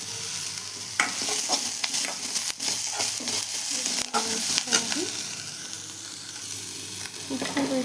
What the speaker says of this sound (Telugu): తాలింపు పెట్టుకుంటున్నాం